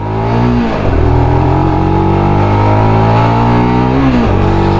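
Lexmoto LXR 125 SE motorcycle engine revving loudly and close, pitch climbing steadily through the gears with brief dips at each shift, no voices.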